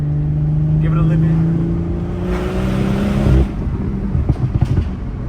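A BMW 440i Gran Coupe engine with MHD tuning idles steadily with a low hum, rising slightly in revs before settling, with a few short knocks near the end.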